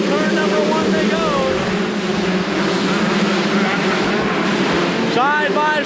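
Several 125cc motocross bikes race side by side at an indoor track, their engines whining loudly and rising and falling in pitch as they rev through a turn, under a constant echoing roar, with an announcer talking over them.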